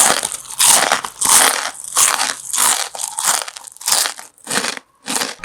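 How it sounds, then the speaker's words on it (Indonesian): Jumbo tempeh chips being bitten, a run of loud, close, sharp crunches in quick succession, each bite crackling and breaking apart with brief pauses between. "bikin keripik menjadi lebih kriuk dan pecah"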